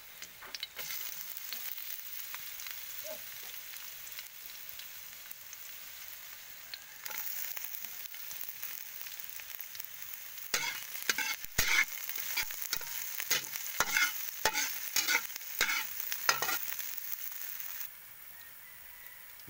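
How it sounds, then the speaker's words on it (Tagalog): Chopped onions fry in a pan with a continuous soft sizzle. In the second half, a run of close scraping and clacking stirring strokes comes in, with no voices. "Next is ilagay ko naman yung sibuyas."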